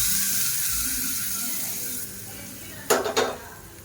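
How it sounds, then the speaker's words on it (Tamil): Oil sizzles steadily in a pan as mustard seeds, urad dal, curry leaves and two dried red chillies temper for tomato mint chutney, then a couple of sharp clinks of a utensil against metal ring out near the end. "இப்போ எப்பயும் போல் கடுகு, உளுந்து, கருவேப்பிலை, 2 வரமிளகாய் தாளித்து கொட்டிக்கலாம்."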